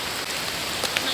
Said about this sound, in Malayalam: മഴയാണ് മഴ.